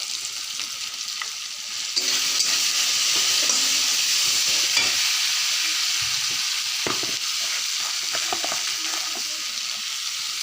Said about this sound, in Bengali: আর ভালো করে কষায় নেব মশলাগুলো